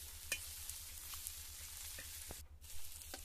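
Ground chili frying in hot tempering oil for a mango thecha, giving a steady, faint sizzle with a few soft stirring clicks and no voices.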